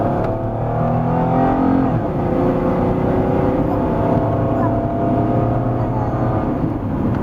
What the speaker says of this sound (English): Let's spin the tires a little and